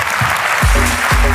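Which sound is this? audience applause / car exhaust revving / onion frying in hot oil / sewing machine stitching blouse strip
audience applause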